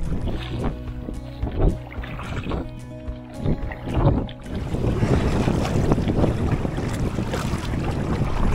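Strong gusty headwind buffets a canoe on Lake Saimaa, blustering across the microphone with rough, uneven roaring that thickens into a steady rush, after a few rhythmic paddle splashes and knocks early on.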